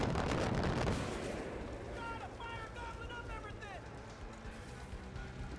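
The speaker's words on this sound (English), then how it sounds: "Oh yeah, they have mortars." Mortar fire in Far Cry 5 comes as a loud booming burst in the first second and then rumbles under a steady background, with shouted voices and talk during the fighting.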